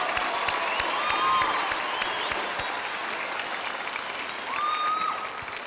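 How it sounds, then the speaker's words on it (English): Audience applause for graduates at a 2002 commencement ceremony, a steady wash of many hands clapping with a few whistles and cheers rising over it, loud and sustained throughout. "let's give them all a big round of applause."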